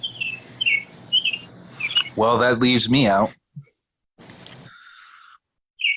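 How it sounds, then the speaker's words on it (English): A bird calls loudly on a patio, with short repeated chirps at the start and near the end, while a person talks in between. "There's a bird on my patio, yeah. Oh, he's loud as shit."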